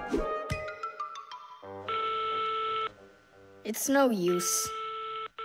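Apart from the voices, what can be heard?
telephone ringing in cartoon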